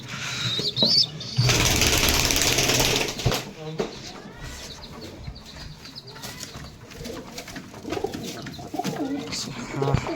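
Pigeons in a loft coo and stir as they are fed, with a loud rustling, flapping burst early on and steady low cooing and shuffling around it.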